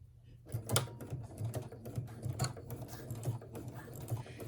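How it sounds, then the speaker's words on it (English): A sewing machine stitches top fabric onto a ruffle, its needle giving a faint, steady, rapid mechanical patter with a low rhythmic thump close by. "lower your presser foot and begin sewing"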